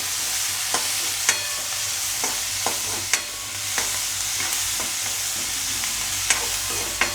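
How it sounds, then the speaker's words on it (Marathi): Onions sautéing in a pan until reddish for an onion chutney, a constant close sizzle broken by repeated sharp scrapes and taps of the spatula at irregular intervals. "आता हा कांदा छानसा लालसर परतून घेऊया।"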